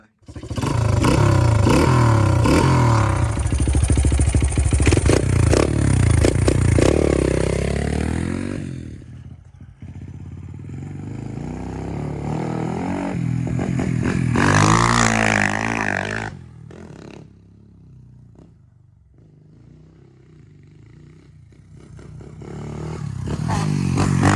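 Honda XR100 dirt bike revving hard through a turn in third gear, loud rising engine whine with clattering and scraping, easing off midway then building again, close and continuous.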